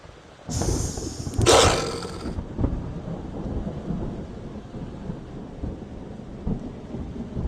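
Poison rain spell from the video game Queen's Wish 2 sounds as a loud thunder crack over steady rain, with the downpour continuing after the crash fades.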